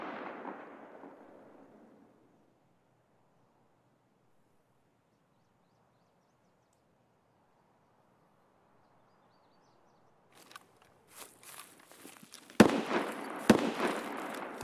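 Gunfire in the Escape from Tarkov video game: a faint hiss fades into near silence, then scattered pops build to a few loud, sharp shots near the end.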